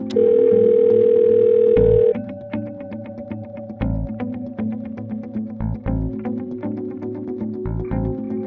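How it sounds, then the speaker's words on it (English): A phone call placed in the Sims FreePlay video game: a steady electronic dial tone holds for about two seconds, then gives way to game music with rhythmic pulses and chimes, no talking. "The next thing for the detective to do is to make a phone call"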